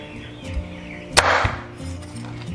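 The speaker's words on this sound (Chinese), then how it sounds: "先把大拇指切下来，把螃蟹斩成小段" A cleaver chops a crab into small pieces on a board, giving a couple of sharp, hard whacks close by amid quieter kitchen handling.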